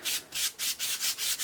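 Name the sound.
pastry brush sweeping excess flour off puff pastry dough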